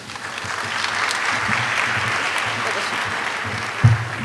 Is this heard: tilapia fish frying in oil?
no